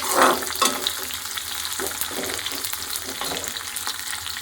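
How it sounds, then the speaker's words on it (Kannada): Onions frying in hot oil for a bisibele bath tempering give a continuous close sizzle, with stirring scrapes and a couple of louder crackles near the start. "ಅಷ್ಟರಲ್ಲಿ ನಾವಿಲ್ಲಿ ಒಗ್ಗರಣೆ ಮಾಡ್ಕೊಳ್ಳೋಣ"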